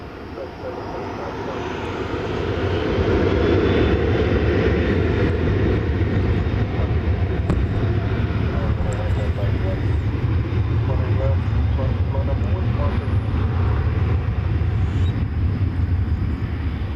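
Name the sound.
American Airlines Boeing 737-800 jet departing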